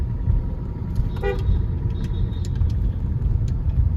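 A traffic jam at a railway crossing in Porbandar: a low, constant rumble of idling vehicles, with one short car horn toot and a few faint distant honks.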